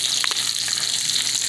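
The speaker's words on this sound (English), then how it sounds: "about time to turn that pork steaks over." Pork steaks fry loudly in a pan with a dense, close, continuous sizzle and a couple of brief spatters.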